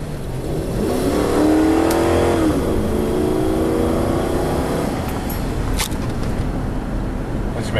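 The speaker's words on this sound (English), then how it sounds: "Engine of this thing does sound really good though." A 2001 Toyota Sequoia SUV engine revs steadily while driving, a loud continuous hum that rises and falls in pitch, heard from inside the vehicle.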